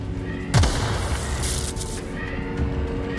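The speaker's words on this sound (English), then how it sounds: "Something exploded." A single deep boom from an explosion in The Outer Worlds 2, hitting sharply about half a second in and rumbling away beneath steady game ambience.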